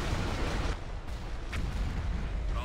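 A-wing starfighter weapons firing during a Star Wars space battle, a loud steady barrage of blasts and booming impacts with no break across the short stretch.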